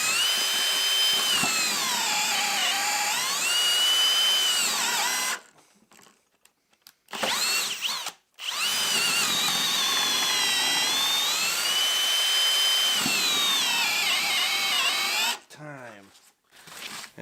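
A Kobalt or Milwaukee cordless drill driver on speed 2 bores two holes, its loud high motor whine rising and dipping under load for several seconds each, separated by short pauses.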